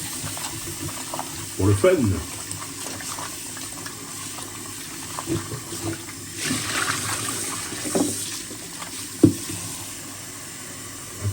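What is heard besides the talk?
sausages being rinsed under running water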